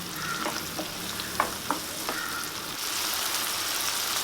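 Tomatoes and onions frying in a pan, a steady sizzle with a few sharp spoon taps and scrapes from stirring, then the sizzle grows louder and more even near the end.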